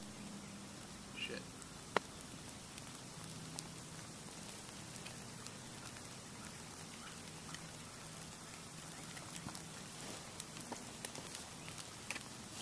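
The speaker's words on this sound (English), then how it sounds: "Shit, rain." Steady rain falls outdoors, a dense, even hiss of drops with scattered sharper pats and ticks on nearby surfaces, continuous and fairly faint throughout.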